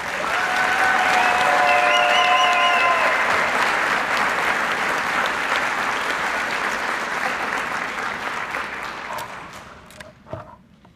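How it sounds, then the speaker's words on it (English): A large audience applauds graduates at a Barton Community College Fort Riley campus commencement ceremony, dense sustained clapping with a few cheers early on, gradually fading toward the end. "Let's give a round of applause to our Barton Community graduates"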